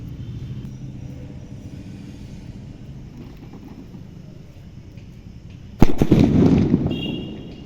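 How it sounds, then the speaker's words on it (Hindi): A Bigg Boss atom bomb firecracker lit and going off outdoors: a steady low rumble gives way to one sharp, loud blast that rolls on into a booming tail. "अब जलाते हैं इस बिग बॉस वाले एटम बम को।"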